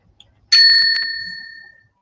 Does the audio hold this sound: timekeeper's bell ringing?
yes